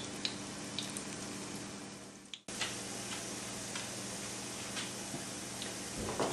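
Tuna burgers browning in a frying pan give a steady, moderate sizzle throughout, with a few faint ticks and clinks on top and a brief dip in the middle.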